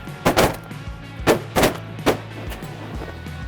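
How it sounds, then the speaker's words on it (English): Shotgun blasts fired at a greenhead mallard during a waterfowl hunt at a goose farm, about five loud booming shots in two quick clusters, close and sharp with ringing tails, no talking. "Did anybody shoot at that greenhead besides me?"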